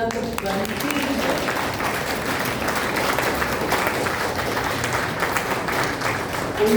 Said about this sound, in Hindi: एक बार जोरदार तालियां तो बनती है।